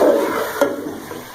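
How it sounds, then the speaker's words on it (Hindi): Chicken frying in a pan makes a steady close sizzle that slowly fades a little, with one brief clink partway through and no voices. "इसको जब आप इस तरह से फ्राई कर लेते हैं थोड़ा सा"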